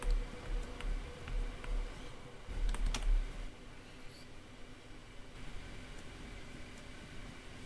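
Steady clicking of a computer keyboard being typed on during DayZ play, quiet and close, with brief pauses and faint background hum.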